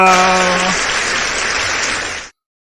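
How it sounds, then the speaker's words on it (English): An audience gives a big round of applause for cycling team manager Doug Ryder at an event; loud, dense crowd clapping begins over the tail of a held musical tone, then cuts off abruptly. "big round of applause now please for Doug Ryder"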